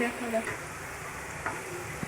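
Gadal leaf pakoras fry in hot oil with a steady, soft sizzle, joined by a few faint stirring scrapes; no one speaks.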